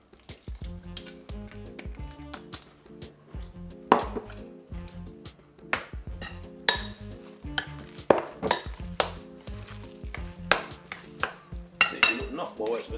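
Sweet potato pudding batter for a Jamaican recipe being mixed in a bowl, made with melted butter, vanilla and coconut milk. Steady, close scraping and knocking strokes repeat for the whole stretch, with sharper clinks of utensil against the bowl and no talking.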